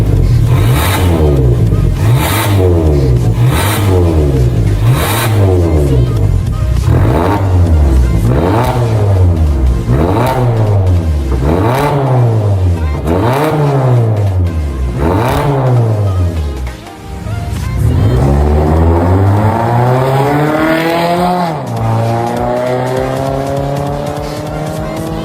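A Mazda CX5 fitted with an NDK full-system exhaust revs loudly and close up in repeated rising and falling blips, then climbs into one long sustained rev. No talking is heard.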